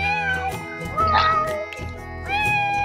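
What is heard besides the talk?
cat meowing in The Sims 4 video game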